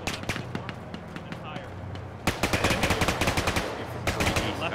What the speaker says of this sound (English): Just gunshots to the east.